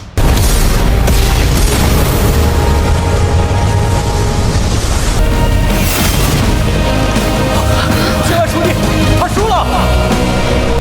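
A fire lotus explodes in an animated fantasy battle scene, a loud, sustained booming blast with crackling debris and rumbling that fills the scene, layered with dramatic effects.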